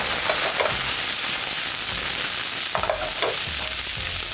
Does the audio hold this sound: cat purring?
no